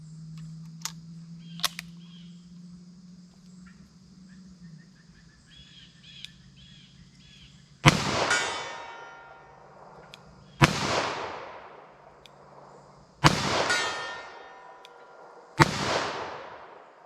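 Four loud, sharp handgun shots from .38 Special and 9mm pistols at an outdoor range, spaced about three seconds apart, each with a booming echo tail, following a quieter stretch with faint clicks and background noise.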